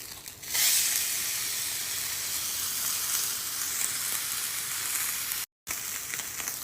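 A ribeye steak sizzles and spits in a pan over very high heat, sitting in its rendered fat, a loud continuous crackling hiss with a brief dropout near the end and no talking.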